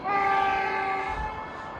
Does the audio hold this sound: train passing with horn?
yes